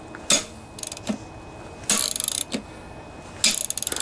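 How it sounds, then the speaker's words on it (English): A wrench is struck to break loose a bolt on an 8 HP Briggs and Stratton riding lawnmower engine. Three loud, close metallic whacks each end in a quick rattling buzz, with lighter knocks between them. "you just put on your wrench and you're going to give it a good whack"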